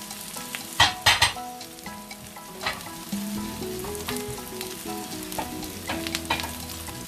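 Salmon fries skin side down in a pan surrounded by vegetables, giving a steady close sizzle, with several sharp clanks and scrapes of utensils and a faint musical background underneath.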